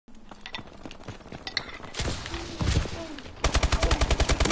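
Rapid automatic gunfire from the video game Call of Duty, with a dense rattling burst mid-clip and a fast, evenly pulsed string of loud shots at the end, set over quieter game ambience.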